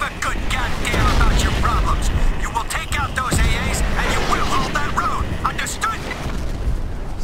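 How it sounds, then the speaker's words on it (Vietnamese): Artillery fire in the video game Crysis Remastered booms and crackles in dense repeated blasts, loud and continuous, with an excited voice talking over it. "bắn pháo ghê quá các bạn ơi"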